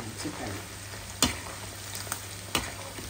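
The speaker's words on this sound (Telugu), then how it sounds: "ఇలా వేయించుకోవాలి." Chicken pieces for Telangana-style gongura chicken pickle fry in a pan with a steady, moderate sizzle, broken by three sharp spatula scrapes against the pan.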